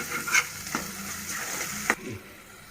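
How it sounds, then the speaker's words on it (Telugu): Ginger garlic paste fries in a hot pan with a steady sizzle, broken by a few sharp clinks and scrapes of a spoon stirring, close and fairly loud, no voices. "1 టేబుల్ స్పూన్ అల్లం వెల్లుల్లి పేస్ట్ వేసుకొని దాంట్లో పచ్చివాసన పోయేంత వరకు దానిని కూడా వేయించుకుందాం."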